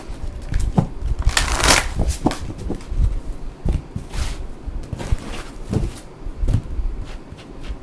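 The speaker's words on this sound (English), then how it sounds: "I'm going to go ahead and just draw one more card for the future from our angels." Tarot cards shuffled and drawn from a deck, heard as close, continuous papery riffling and slapping with irregular sharp flicks and taps across several seconds and no talking.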